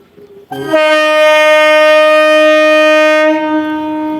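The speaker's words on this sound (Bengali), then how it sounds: "তো ট্রেনটা ছেড়ে দিল" A departing train sounds a long, loud, steady horn blast that holds for nearly three seconds before cutting off, close by, with rail noise underneath.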